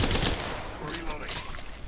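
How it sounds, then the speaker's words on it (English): Rapid gunfire in an Apex Legends firefight, dense and continuous. Bursts of shots run under a steady wash of combat noise at moderate volume. "Getting shot at."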